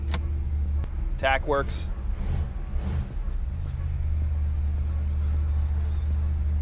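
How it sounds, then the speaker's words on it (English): A lowered 1957 Ford Custom 300 with a 428ci motor sits idling with a deep, steady low rumble while in first gear with the brake released. Someone speaks briefly over it near the start. "Let's put it in first gear, take the emergency brake off."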